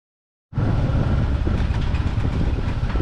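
A Cambodian bamboo train in Battambang runs with a loud, steady rumbling engine and clattering rail noise, starting abruptly and running continuously, close by, with no talk.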